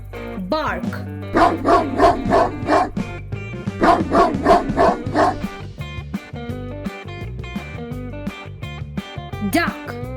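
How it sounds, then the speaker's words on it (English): A dog barks in a quick series of sharp yelps and bow-wows, clustered in rhythmic bursts, close and loud, over background music with a voice speaking at the start and end. "Bark."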